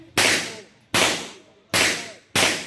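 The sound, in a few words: gunshots from firearms at a firing range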